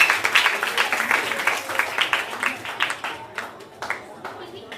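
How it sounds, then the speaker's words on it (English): An audience at a school graduation ceremony breaks into sustained clapping that gradually thins out, with dense claps at first fading to scattered ones near the end. "Give a round of applause to St. John's Anglican School and teachers"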